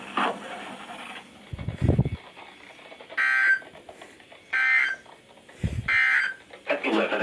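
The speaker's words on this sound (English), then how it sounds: "Receipt of the warning alarm tone will vary at any given location" A weekly emergency warning alarm test on a broadcast, with steady electronic tone bursts repeating at regular intervals, alternating with and sometimes overlapping a speaking voice, fairly loud and close.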